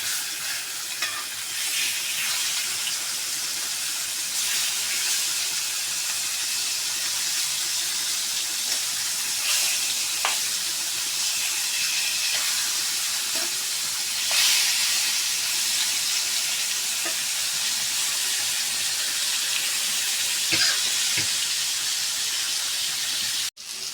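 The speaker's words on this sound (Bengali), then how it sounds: "মাছগুলো আমি সুন্দর করে ভেজে নিচ্ছি" Pangas fish pieces frying in oil in a pan, a loud continuous sizzle and hiss close up, with occasional pops and crackles and a few faint clinks, unbroken for the whole stretch.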